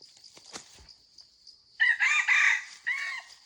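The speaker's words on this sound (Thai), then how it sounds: "ไก่อ่อน" A young rooster crows loudly and close by in a few strong bursts after a quiet stretch with faint chirping.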